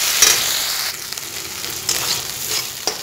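A spice paste containing shrimp paste fries in a pan over low heat, giving a soft, steady sizzle with a few brief stirring scrapes and small pops.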